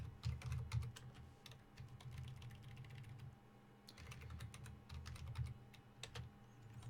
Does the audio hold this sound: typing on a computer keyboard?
yes